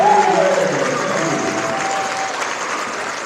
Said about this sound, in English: a round of applause for all of our veterans